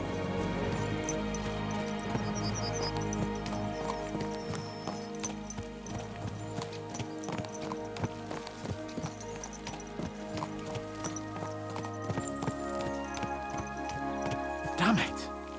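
Horses' hooves clip-clopping steadily in Kingdom Come: Deliverance II, close and rhythmic over a low ambient drone, with a voice speaking over it and a brief neigh near the end.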